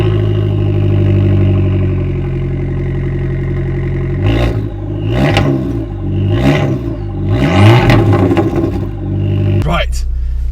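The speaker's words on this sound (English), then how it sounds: "let's start up this little pocket rocket, shall we?" An Abarth 695C Rivale idles with a deep, steady rumble, then is revved in several sharp blips that climb and fall back, ending in a bigger rev before the engine note drops away.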